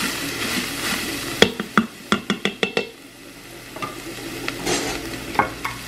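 Ground beef and garlic are stirred in an Instant Pot, a utensil scraping in a quick run of sharp knocks amid a soft sizzle, close and clear, with no talk.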